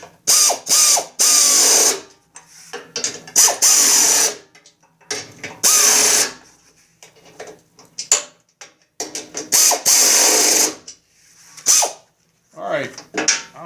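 A hand ratchet clicks in quick bursts while tightening bolts on the rusty deck of a riding mower, the fast pawl ticking stopping and starting close by, with short pauses between strokes.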